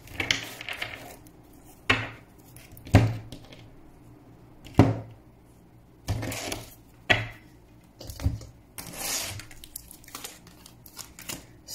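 Tarot cards being dealt out one by one into a Celtic cross spread, giving a series of crisp, close slaps and shuffling rustles at uneven intervals with quiet pauses between them.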